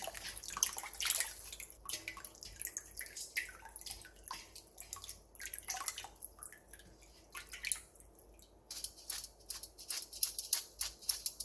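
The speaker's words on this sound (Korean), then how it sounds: "데친 콩나물은 찬물에 헹군 뒤 물기를 충분히 빼놔주세요." Blanched bean sprouts rinsed under cold water and left to drain, with soft scattered drips and splashes in a faint, irregular patter close by, no talk.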